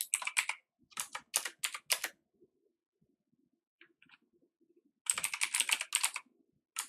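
Bursts of clicky computer-keyboard typing during coding, close and crisp, with a quiet pause in the middle before another rapid run of keystrokes.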